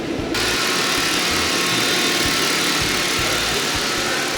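An LS3 V8 swapped into a BMW E36 runs while the car drives, giving a loud, close, continuous engine rumble with low pulsing throb throughout.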